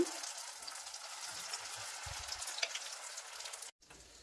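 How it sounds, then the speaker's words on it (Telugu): Wheat semolina bun dosa batter with sesame seeds sizzles softly in hot oil, a faint steady crackling hiss with a few light pops, then an abrupt brief cut near the end. "కాస్త నువ్వులు వేసుకుని ఒక్క నిమిషం ఫ్రై అయ్యాక ఇలా పిండిని రెండు గరిటలు వేసుకోవాలండి"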